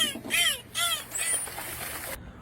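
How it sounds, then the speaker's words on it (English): Dolphins call in rapid, high, squeaky chirps and whistles, several short bursts close together over a couple of seconds before cutting off abruptly. "Oh, those aren't seagulls. It's dolphins."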